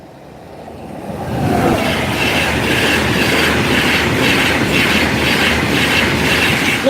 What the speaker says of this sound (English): L&NER Newcastle 130 and 205 flying Scotsman.